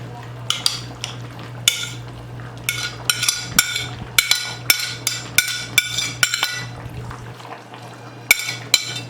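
A utensil stirs sautéed onions into steak in a pan for Puerto Rican bistec encebollado, making a quick series of loud metallic clinks and scrapes against the cookware over a steady low hum.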